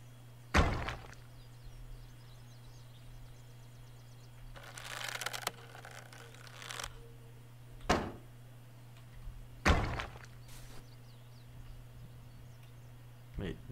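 A catapult fired in the survival video game Trials of Wilderness: a few heavy thunks and a creaking, scraping release spaced over the stretch, over a steady low hum.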